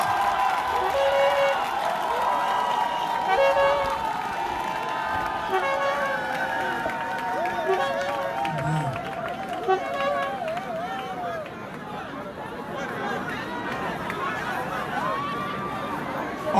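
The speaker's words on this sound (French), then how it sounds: "On pousse des cris de joie" Large outdoor crowd at a spiritual purification ceremony in Côte d'Ivoire's Guemon region, a dense continuous roar of cheering, shouts and chatter with voices rising and falling steadily throughout.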